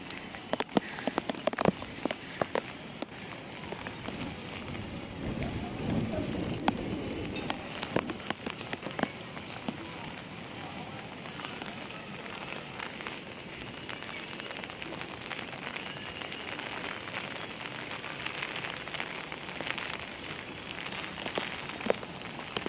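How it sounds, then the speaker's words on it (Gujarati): A light drizzle falls on a rooftop terrace with a soft, steady crackling patter of drops that goes on throughout, faint and even, with a few sharper ticks near the start. "તો ઝરમર ચાલુ છે અત્યારે વરસાદ."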